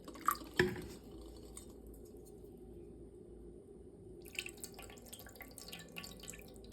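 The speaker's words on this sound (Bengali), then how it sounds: "এবার একটু গঙ্গা জল ঢেলে দাও।" Ganges water poured over a small Gopal idol during a bathing ritual with camphor, heard as a couple of close drips and splashes near the start, then a soft steady trickle and faint dribbling, quiet throughout with no talk.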